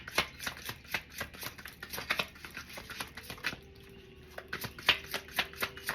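A transparent tarot deck being handled and shuffled, giving quick, crisp flicks and riffles in bursts, then a short pause, then more card flicks, close and fairly quiet with no speech.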